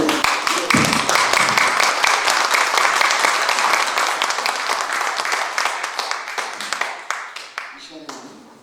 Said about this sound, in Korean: 우리 조영성 선교사님 다시 한번 박수 한번 보내주시고